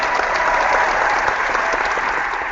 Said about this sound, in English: The crowd is going wild, John.